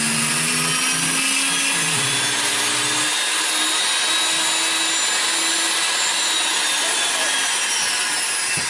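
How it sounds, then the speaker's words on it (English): A Typhoon power carving bit grinds a groove through cottonwood bark with a continuous high, abrasive whine, loud and close, with no talking. "I'm going to take my Typhoon bit, or any power bit that I can make a groove with"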